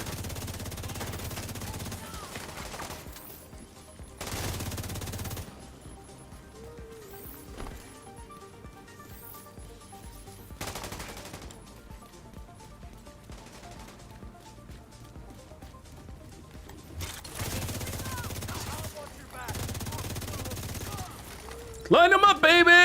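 Bursts of automatic gunfire from The Division 2 video game, looter-shooter combat with repeated shots in clustered volleys, under a voice talking over the action.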